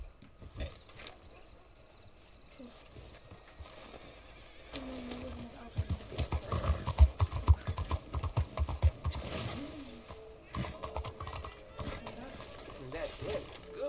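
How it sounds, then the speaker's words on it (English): A horse clip-clops along in the Red Dead video game, its uneven hoof thuds growing louder and busier midway, mixed with game ambience while a voice talks over it. "That is a good old horsey."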